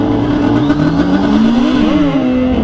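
A 2022 Suzuki Hayabusa motorcycle revs hard during a burnout at a drag strip, its engine loud and close, pitch climbing and wavering with throttle over a steady roar.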